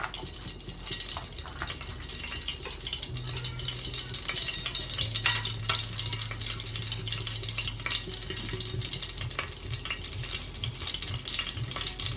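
Whole spices frying in hot oil in a pressure cooker for chicken biryani, a steady close crackle and sizzle throughout, with a faint low hum partway through and no voices.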